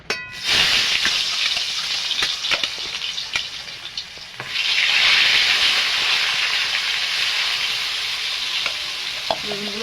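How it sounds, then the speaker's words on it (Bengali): Eggplant pieces, salted and coated in turmeric, frying in hot oil with a loud, steady sizzle and hiss, broken by occasional stirring clatters and a surge of crackle midway as more pieces hit the pan. "তেলটা গরম হয়ে গেছে, আমি বেগুনগুলো ভাজা করে নেব।"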